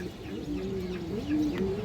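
Male pigeons, an old-breed khoira-gola and pied cock among them, give low rolling coos in a few overlapping phrases, close and clear over a quiet background.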